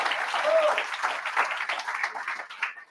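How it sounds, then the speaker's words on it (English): An audience applauds at a live coaching training session, a fairly close, even clatter of clapping that gradually thins out, with some talking mixed in. "So give yourself a round of applause, first of all, especially for those on Zoom."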